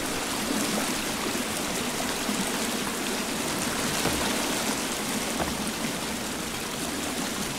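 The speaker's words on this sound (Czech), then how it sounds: "Jo, tohle je teďka hlučné trošku, ten vodopád." Waterfall rushing in the video game The Forest, a loud, dense, continuous roar of falling water filling the whole stretch with no break, close and unvarying.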